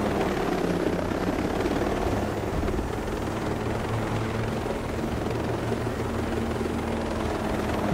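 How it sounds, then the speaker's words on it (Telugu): Helicopter flying in Ghost Recon Breakpoint gives a steady, loud rotor and engine drone that stays constant throughout, with no speech. "మరి అక్కడ చూసారా హెలికాప్టర్తో జర్నీ ఎలా ఉంది?"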